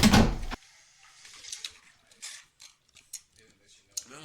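A door swings shut with a short burst of noise at the very start. Scattered faint mechanical clicks and creaks follow in near silence.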